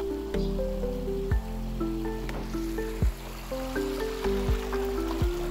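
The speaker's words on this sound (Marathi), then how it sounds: "छोटासा ओढा दिसलाय, ओढा एवढा भारी आहे ना त्याचा आवाज ऐका तुम्ही" A small stream trickles and babbles softly and continuously, with gentle music notes playing over the water.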